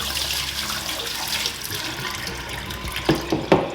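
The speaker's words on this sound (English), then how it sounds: "now I am going to wash my rice." Rice being washed under running tap water, a steady gush of water with sloshing and splashing that grows toward the end, close and alone without talk.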